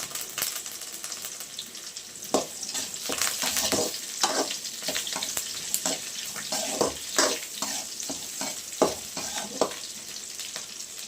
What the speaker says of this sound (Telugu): ఎర్రగడ్డలు అయితే ఒక 2 నిమిషాలు వేగనిచ్చేద్దాం